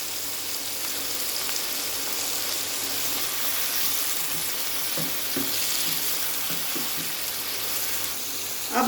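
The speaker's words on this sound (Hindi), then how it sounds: "इसको हमें तेज आंच पे भूनना है।" Chicken pieces frying over high heat for achari chicken, giving a dense, even sizzle with a few faint stirring knocks, close up and with no voices.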